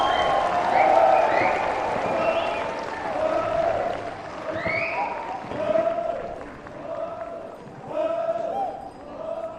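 An audience applauds performers at the Hornbill Festival's daytime stage program, a steady wash of clapping that swells and eases over several seconds while voices and tonal sounds carry over it.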